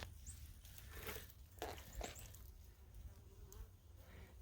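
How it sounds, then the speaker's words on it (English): A dense, continuous buzz of many feral honey bees fills the air close by, with occasional individual bees droning past over a soft outdoor hiss. "Feral bees."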